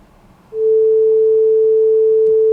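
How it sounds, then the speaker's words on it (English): A single steady pure tone switches on abruptly after a brief quiet pause and holds loud and unchanging to the end. "If we do this, we'll hear a tone,"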